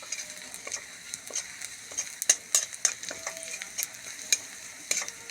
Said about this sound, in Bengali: তো রসুন কুচি করা দেওয়ার পরে দিয়ে দেবো কটা জিরা। তো ভাজি হোক।